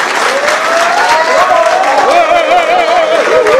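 Sustained applause from an audience honoring a rapper, steady and dense throughout, with a voice carrying over the clapping.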